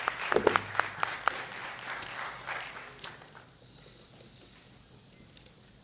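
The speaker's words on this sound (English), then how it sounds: "May I have a big round of applause for Professor Dr. M. Murugananth." Scattered clapping from an audience, a handful of sharp claps at first that thin out and fade within a few seconds.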